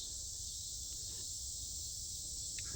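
Cicadas in a forest preserve give off a steady, unbroken high buzzing drone that runs the whole time at a moderate distance, with no voices over it.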